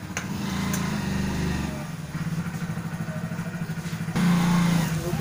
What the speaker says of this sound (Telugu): బైక్ కూడా పార్క్ చేస్తున్నాను.